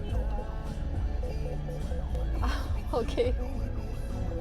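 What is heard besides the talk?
ambulance siren passing in traffic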